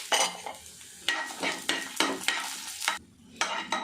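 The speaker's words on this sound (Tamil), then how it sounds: "காஞ்ச மிளகா நல்லா கருக விடக்கூடாது பொரிஞ்சிருச்சு எடுத்துட்டேன்" Three dried red chillies fry in oil for ginger kuzhambu, giving sharp bursts of close sizzling and stirring scrapes in uneven pulses, with a brief lull before the crackle returns.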